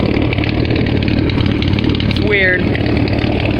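Ford 300 inline six idling through a straight pipe exhaust, a steady, loud low rumble with an even chugging pulse throughout, while someone talks briefly over it.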